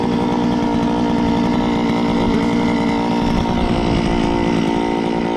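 A power ice auger drills a hole through lake ice while a gillnet is set, its small engine droning loud and steady at close range without a break.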